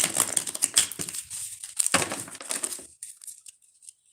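A tarot deck is shuffled by hand, with quick bursts of crisp riffling and slapping card noise close by, easing into sparse soft rustles toward the end.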